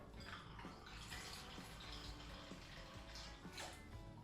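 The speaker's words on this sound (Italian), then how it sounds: "andiamo a mettere 2 once di gin, non utilizziamo in questo caso il Jigger ma utilizziamo il Metal Pour" Gin poured through a metal pour spout for a Gin Fizz gives a continuous, even liquid stream of about four seconds, quiet and close, with no voices.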